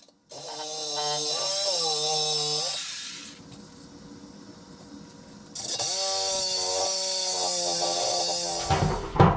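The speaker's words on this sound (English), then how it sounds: "So I got to cut around the weld on the top to free it up." A cutting tool works around the top weld of a 10-year-old water heater tank, giving a loud, steady whining cut. It drops to a lower, rougher noise midway, then resumes at full strength.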